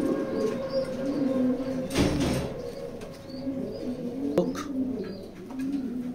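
Racer pigeon hen with a very short tail cooing in a loft, a steady low rolling coo repeating throughout, fairly close, with faint background chirps and a brief rustle midway.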